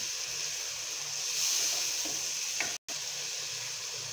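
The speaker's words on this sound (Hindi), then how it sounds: "अब जो मैंने मिर्चें रखी हुई थी कटिंग करके वो डालेंगे।" Chopped chillies dropped into frying masala for a spiced eggplant and potato dish, giving a steady, loud sizzle and hiss with light stirring, no talking.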